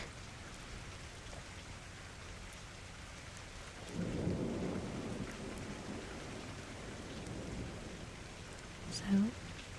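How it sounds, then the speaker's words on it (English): Light rain falls steadily, with a low rumble of thunder swelling from midway and lingering at a moderate distance, a brief sharper sound near the end. "now the rain's only like a little bit of a whisper"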